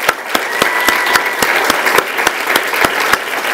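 Audience applause at a school district convocation for a high school jazz band, a loud sustained wash of clapping punctuated by a regular beat of sharp drum hits.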